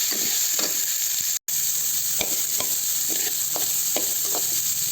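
Onion, green chillies and curry leaves fry in a pan, giving a continuous bright sizzle with scattered soft stirring scrapes and a brief cut in the middle.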